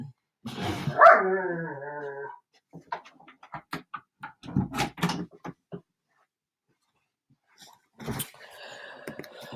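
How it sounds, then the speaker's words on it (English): A dog whines in a rising, wavering cry, then gives several short barks and yips, fairly close, ending with a brief scuffle of noise. "Let me shut the door so we can't hear Trooper whining."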